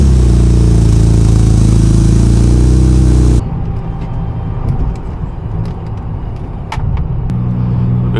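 A boosted Acura TL Type S drives along with a loud, steady engine drone and road rumble from inside the car, which drops abruptly to a quieter hum partway through, with a few faint clicks.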